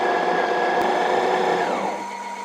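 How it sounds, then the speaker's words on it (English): The built-in grinder of an Ultima Cosa espresso machine makes a loud, steady mechanical grinding whir, close and continuous for about two seconds, then eases down slightly in intensity toward the end. "The grinders are obnoxiously loud"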